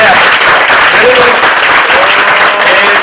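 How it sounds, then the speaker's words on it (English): A crowd at a Dhanvantari havan ceremony at a Sai Mandir in New York breaks into loud, sustained applause lasting the whole moment, with dense overlapping claps and some voices mixed in. "Give big claps. Very big claps. Very very big claps."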